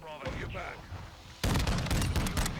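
An MX Guardian shotgun fired in a Call of Duty match, a sudden loud burst of booming blasts after someone talks, close and harsh, with the shots running together over the last second.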